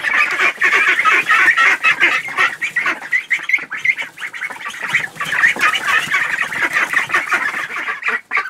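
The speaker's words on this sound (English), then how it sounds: "Let's get out of this noisy duck house here." A dense, loud chorus of quacking ducks inside a duck house fills the space, continuous and overlapping, with many birds calling close by at once.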